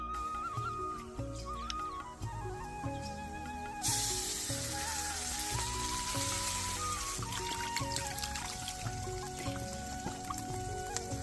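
Stuffed bitter gourds (karela) fry in masala and oil in a pan, a soft sizzle that swells partway through and then keeps hissing under steady background music.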